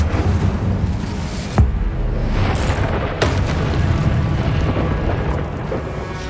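An Incendio fire spell cast in Hogwarts Legacy, loud rumbling fiery booms with a sharp burst near the middle and another flare later, over a continuous roaring, crackling bed of flame and game effects.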